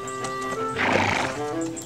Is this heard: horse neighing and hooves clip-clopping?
yes